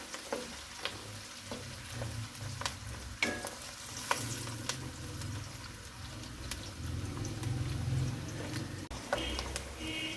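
Onions frying in a pan for khare masale ka qeema, a soft steady sizzle broken by occasional light taps and scrapes of a stirring spoon.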